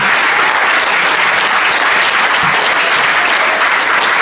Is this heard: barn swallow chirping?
no